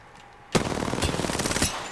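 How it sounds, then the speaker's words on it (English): Rapid automatic gunfire in a video game breaks out abruptly after a quiet stretch, a loud, dense rattling burst that keeps going without pause to the end. "Getting shot at"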